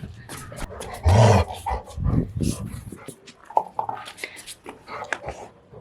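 A dog growls and grumbles playfully in short bursts, close and fairly loud, mixed with snorts and scuffling, while a person talks over much of it.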